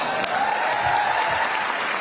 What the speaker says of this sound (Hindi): समझ में आई हो तो ताली बजाओ।